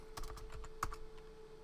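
Quick taps on a computer keyboard as a word is typed while setting up a bootable flash drive, a short cluster of crisp clicks close to the mic under a steady faint hum.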